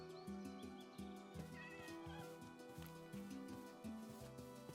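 Cat meows in the Minecraft video game sound over a busy backdrop of game music and effects, several short mews overlapping in quick succession.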